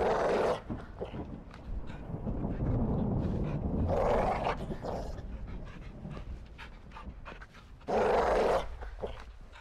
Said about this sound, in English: Do you see the caged dog?